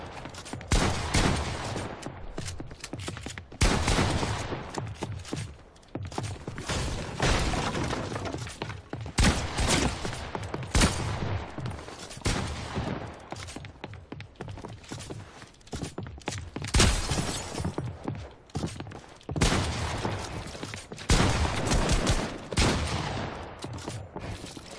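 Gunfire in the video game Fortnite rattles in dense, rapid bursts and volleys across the whole stretch, loud and near, with short pauses between flurries.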